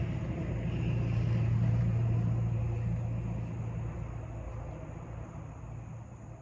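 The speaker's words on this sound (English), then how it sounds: "I'm sorry if you're getting some background noise, some loud trucks driving by." Loud trucks drive by, a broad low rumble that swells and then slowly fades, with steady traffic noise in the background.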